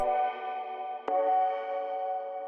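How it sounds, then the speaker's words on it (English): A Serum synth plays stab chords that decay quickly into a big, lingering reverb tail, bright and sustained, with a sharp new attack partway through and nothing else heard. "I wanted something that decayed pretty quickly but had like a big reverb tail"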